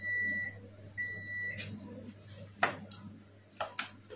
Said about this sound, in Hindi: अलार्म बज गया